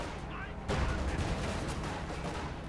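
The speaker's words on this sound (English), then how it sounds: "More mines going off." Mines detonating in the Company of Heroes 2 strategy game, a sudden loud boom followed by a rumbling, crackling blast tail, with battle noise continuing underneath.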